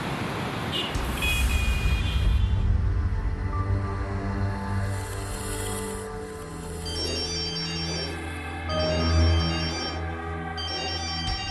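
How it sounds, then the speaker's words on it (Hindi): A phone ringtone plays as a looping electronic melody, moderately loud, over steady background music in a domestic drama scene. "इस वक्त इस का फोन कहाँ से आ गया?"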